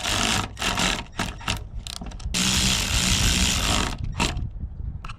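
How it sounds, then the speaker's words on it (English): Ratcheting wrench work as bolts are threaded back into the roof of a BMW E46 wagon drift car, a loud, close, continuous clicking and grinding in repeated bursts with short pauses between turns. "I'm gonna put the bolts back in"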